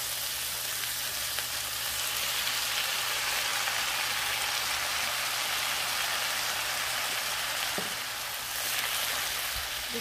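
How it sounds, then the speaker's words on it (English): Shrimp hit a hot pan seasoned with pepper, giving a steady, even, rain-like sizzle that stays constant and fairly quiet, with no talking. "Next, I'm going to add my shrimp."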